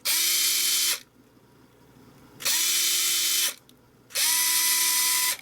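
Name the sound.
Fanttik NEX L1 PRO electric screwdriver running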